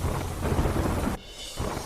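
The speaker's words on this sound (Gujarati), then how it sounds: "લખનૌમાં ધોધમાર વરસાદથી રસ્તા પર વિઝિબિલિટી ઘટી" Heavy monsoon downpour with thunder over flooded city streets in Lucknow, a dense roar of rain and rumble filling most of the stretch before dropping to a thinner hiss, then swelling again.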